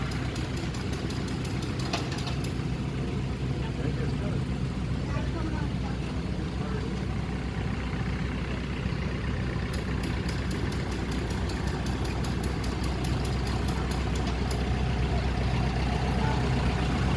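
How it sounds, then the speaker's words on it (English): An old tractor engine idles steadily in an outdoor parade setting, a continuous low rumble running throughout, with faint background voices and some clicking. "And sometimes these old tractors get fussy on us."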